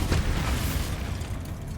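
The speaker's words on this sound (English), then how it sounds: "Confringo. Bombarda." A Bombarda explosion spell in Hogwarts Legacy, a short loud booming blast with a rumbling tail that fades over under two seconds.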